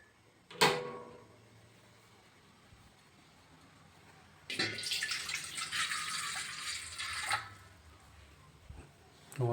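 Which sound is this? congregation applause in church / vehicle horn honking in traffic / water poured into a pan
water poured into a pan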